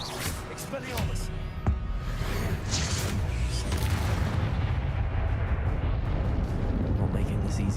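Expelliarmus spell cast in the video game Hogwarts Legacy: a dense, roaring magical blast with whooshing energy and a sharp crack near the start, sustained loudly throughout under a voice.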